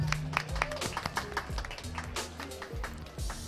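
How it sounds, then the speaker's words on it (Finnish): Crowd applause at an awards gala for a car website, a dense sustained clapping that holds steady for several seconds with no talk over it. "Annetaan raikuvat aplodit."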